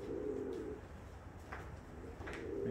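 Karaca and Sabuni pigeons coo softly with low, rolling calls that swell and fade a couple of times, close by over a steady background hum, with no talking.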